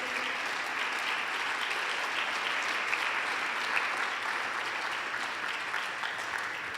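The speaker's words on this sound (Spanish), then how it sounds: "Denle un fuerte aplauso." A large crowd claps steadily and evenly, a dense continuous wash of applause that stays at one level throughout.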